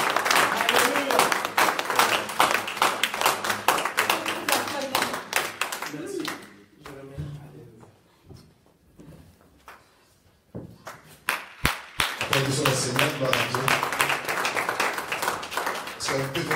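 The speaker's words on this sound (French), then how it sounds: "Applaudissons très fort." A church congregation claps and applauds loudly, dense steady clapping that fades out midway and then returns strongly, with voices talking over it throughout.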